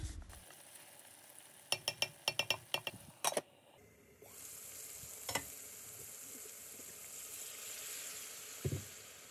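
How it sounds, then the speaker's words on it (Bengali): Spoon scraping and stirring a rui fish, flat bean and potato curry in a pan, several quick clattering strokes early on, then a steady soft sizzle of frying with a few later scrapes. "তো একটু পরপরই নেড়ে চেড়ে দিচ্ছি"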